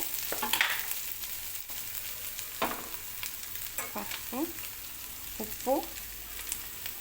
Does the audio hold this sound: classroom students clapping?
no